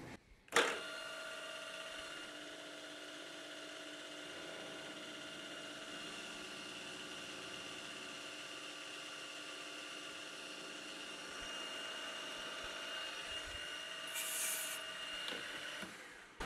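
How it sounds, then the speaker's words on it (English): A milling machine drives an end mill through a stainless steel guide frame, making a steady tonal whine with a faint grinding cut. It starts with a sharp click, stays constant and close, and carries no talk. "Now I can just drop down and take my repetitive cuts to final depth"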